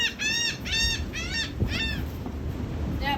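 Seagulls near a beach deck give a series of four or five quick, rising squawking calls in the first half, then only open outdoor wind noise remains, fairly close and clear.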